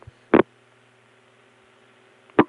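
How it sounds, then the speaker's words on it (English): Two short sharp mechanical clacks about two seconds apart over a faint steady line hum, from a Crossbar No. 5 tandem telephone switch in Atlanta, early 1980s. "you can hear the crossbar 5 Tandem in Atlanta making its distinctive sounds."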